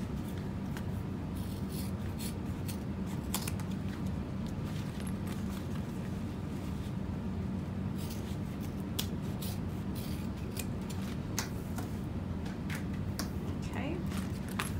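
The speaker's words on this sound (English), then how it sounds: "Now I'll trim off my excess fabric" Scissors trim excess fabric from a zipper pocket on a handmade wristlet wallet, giving steady close snipping and rubbing of cloth that runs continuously under low background noise.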